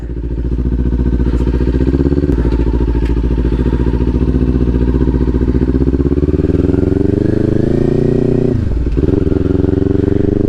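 A Kawasaki Ninja 400 motorcycle pulls away in first gear in cold weather, its engine a loud, steady close-range drone that rises gradually, with a brief dip near the end.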